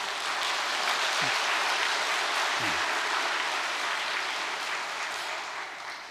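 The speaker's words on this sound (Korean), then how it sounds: "격려와 감사의 박수를 보내십시다" A church congregation gives sustained applause of encouragement and thanks, dense, even clapping that fills the whole stretch and tapers slightly at the end.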